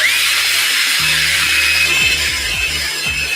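Power brush with a medium bristle head, dipped in cleaning solution, whirring and scrubbing Yeezy 350 sneakers up close, with a steady high-pitched motor whine and shifting lower scrubbing tones throughout.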